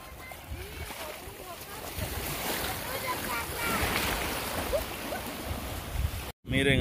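Ocean waves wash against the beach near the mouth of the Lempa river, a continuous moderate surf roar with wind noise, briefly cut off near the end.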